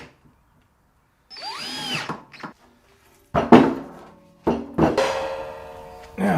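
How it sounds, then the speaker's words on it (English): Power drill driving screws into a plywood base for a homemade cymbal lathe, heard in several short whirring bursts separated by pauses, close and fairly loud with no talking. "And I'm just going to screw this in."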